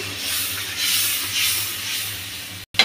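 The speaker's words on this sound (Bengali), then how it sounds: "মশলা বাটার পর পাটা ধোয়া পানিটাও দিয়ে দিলাম।" A steady loud hiss and sizzle as water used to rinse a spice-grinding stone is poured into a hot pan of curry, continuous for a few seconds before cutting off abruptly.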